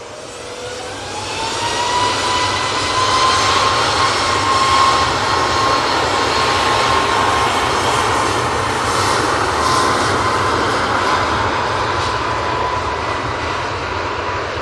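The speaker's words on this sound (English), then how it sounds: "Turned on to final, we have the Ryanair from Rome, using the MAX 8 for this flight" A Ryanair Boeing 737 MAX 8 inbound from Rome on final approach to Manchester Airport, its engine roar swelling loud and steady overhead with a faint whining tone, sustained throughout before easing slightly.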